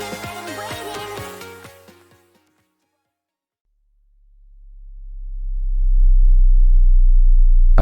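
A pure low-pitched sine wave tone fades in after music dies away, swelling steadily into a loud, smooth, unwavering hum that holds to the end.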